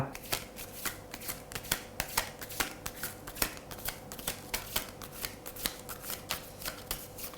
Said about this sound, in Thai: เดี๋ยวขอ สับไพ่ก่อน